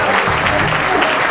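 Loud, dense audience applause on the Spanish-language game show Decisiones a la Seca, a brief continuous burst from a studio crowd.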